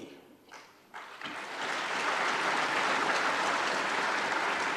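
An audience at a public address bursts into applause, a few scattered claps at first that swell after a second into steady, sustained clapping from a large crowd.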